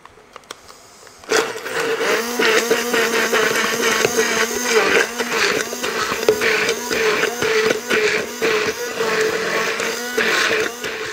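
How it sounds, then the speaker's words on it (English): A kitchen blender starts abruptly and whirs loudly and steadily as it blitzes a Dijon mustard paste for a beef tartare, its motor pitch wavering slightly as the contents churn, with no talking. "now we're gonna blitz this up"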